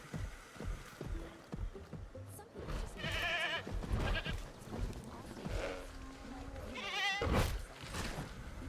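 A goat bleats repeatedly in the Jurassic World Evolution video game, several wavering cries rising over busy game sounds and low rumbles, each call lasting about half a second.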